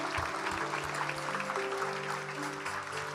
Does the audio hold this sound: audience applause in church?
yes